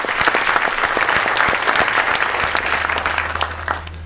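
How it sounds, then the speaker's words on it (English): Loud, dense audience applause at a 2014 science center groundbreaking ceremony, sustained clapping close by that holds steady and then starts to thin out at the end, with a low hum beneath. "So let's give them a round of applause as well."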